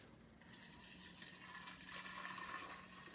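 Boiling water trickles slowly into a glass jar while brewing tea, a continuous gentle pouring and filling sound at close range with no talking.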